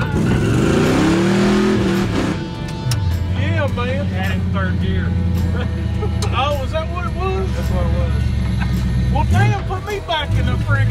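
Supercharged 1955 Chevy engine with a Vortech V3 blower revving hard and close, a loud sustained roar with rising and falling throttle sweeps, someone talking over it.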